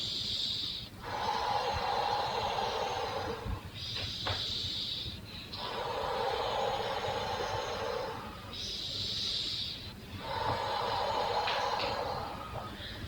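Slow, deep breaths during a relaxation breathing exercise, heard alone and close: about three long, airy inhale–exhale cycles, each broad hiss swelling and fading in a steady rhythm with short pauses between.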